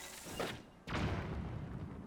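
A bomb blast in the video game Zelda: Tears of the Kingdom lands as a single heavy boom, preceded by a softer thump and trailing into a rumbling, sustained roar.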